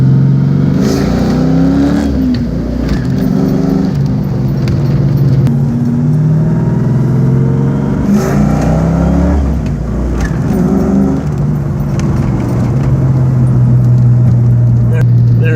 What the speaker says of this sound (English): driving a manual does have its fun